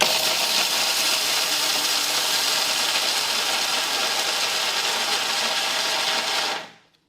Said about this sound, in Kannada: ಈಗ ಮಿಕ್ಸಿಗೆ ಹಾಕಿ ರುಬ್ಕೋತೀನಿ ರೀ